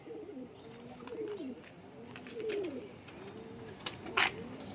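A tournament-flown racing pigeon coos in a steady, repeating rhythm of soft throaty phrases close by, with a few faint chirps toward the end.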